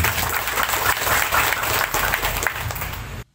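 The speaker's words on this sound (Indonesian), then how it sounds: "tepuk tangan buat beliau" Loud, dense clapping from the congregation at an Islamic religious gathering in Indonesia honors a kiai, filling the room in a sustained close burst that cuts off abruptly at the end.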